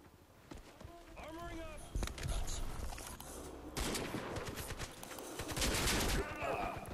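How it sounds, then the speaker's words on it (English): Rapid gunfire and shotgun blasts from Crysis 2 multiplayer on Xbox 360 crackle through a dense, busy battle mix, with close bursts clustering in the second half and speech running underneath. "I was shooting him with a shotgun from point blank"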